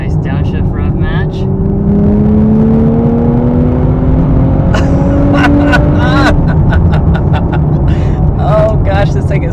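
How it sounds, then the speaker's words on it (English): A 2023 Nissan Z Sport engine roars loudly from inside the car on a road near Lake Mead, its pitch climbing steadily under acceleration, then a sharp downshift with a quick blip of revs, while someone talks excitedly over it. "Nice downshift rev match."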